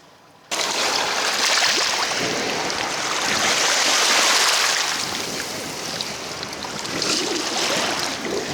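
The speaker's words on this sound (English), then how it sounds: "And there we are, giving it a rinse off now." A piece of 17th-century Bellarmine stoneware from the River Thames mud is rinsed in water, a continuous close splashing and sloshing that swells and eases for several seconds.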